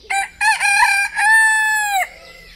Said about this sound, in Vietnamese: ở đây có gà tre nữa rồi